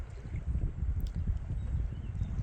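A kayak is paddled on Lake Vänern in Sweden in fairly calm conditions, with a steady low rumble of wind and water against the hull and soft, rhythmic paddle strokes close by; no one speaks.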